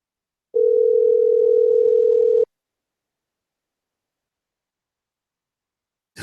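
A telephone line gives off a steady, clean single-pitch tone for about two seconds while a call is placed on air, then cuts to silence.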